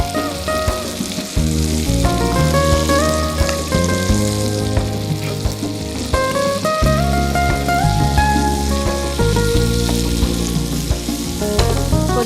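Butterfly prawns fry in a pan, making a steady, close sizzle that runs throughout. Prominent background music plays over it, with no talking.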